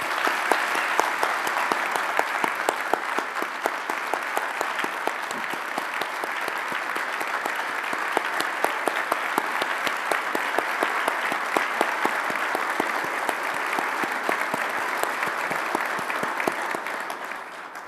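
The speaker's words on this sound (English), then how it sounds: "I now ask each of the attendees to express their heartfelt congratulations with a round of applause" Attendees at an AEA gathering applaud the association president's more than two decades of service, a long, steady and loud ovation of many hands clapping, unbroken by speech.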